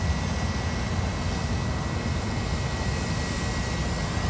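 An Airbus A321 airliner at Fort Lauderdale airport produces a steady, moderately loud broadband jet rumble that holds evenly without any talking.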